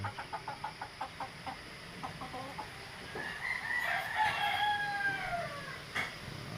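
Hens cluck in a quick series of short calls, then a rooster lets out a long, loud crow over steady background noise of strong wind in cold weather.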